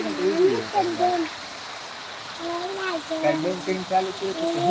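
Heavy rain pours down in Rajula as a steady, close hiss of falling water, with a person talking over it throughout.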